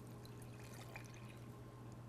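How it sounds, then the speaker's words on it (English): Yeasted water being poured by hand into a bowl of flour for focaccia dough, a soft continuous trickle under a low steady background hum. "the yeasted water"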